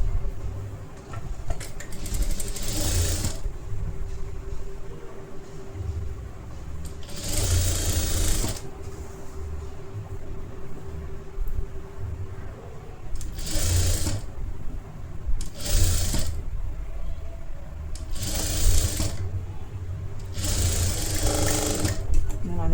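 A sewing machine stitches a blouse lining around the armhole in several short bursts separated by pauses, each run a fast whirring rattle, with someone talking throughout.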